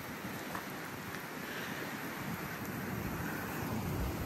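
Rain falls as a steady, even hiss of broadband noise that swells slightly toward the end, with no voices.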